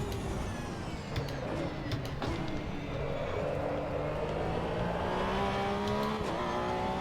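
Porsche race car in Assetto Corsa Evo, a steadily rising engine note as it accelerates out of a corner, moderately loud and continuous with a few sharp clicks early on.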